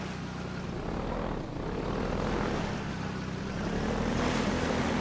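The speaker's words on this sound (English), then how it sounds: "Dead helicopter falling from the sky?" A stricken helicopter plunges from the sky in Half-Life 2, giving a continuous loud roaring whoosh of rotor and engine noise that surges and dips without a break.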